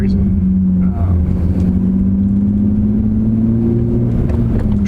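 A BMW E36 M3 driven gently through a residential neighborhood, its engine giving a loud, steady low drone from inside the cabin with a slowly rising tone, unbroken and close throughout.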